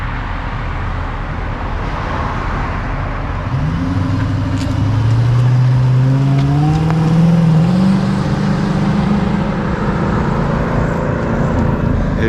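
Throaty exhaust note from a 2006 Dodge Magnum fitted with Magnaflow mufflers: a steady idle rumble breaks into a couple of climbing revs that hold high briefly, then ease back to a loud, close idle.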